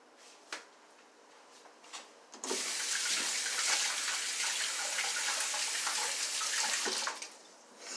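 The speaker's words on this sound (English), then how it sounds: "Rinse that stuff off my hands." Hands rinsed under a running kitchen tap while making chickpea patties: a steady splashing gush of water for about five seconds, close by, framed by a few small knocks before and after.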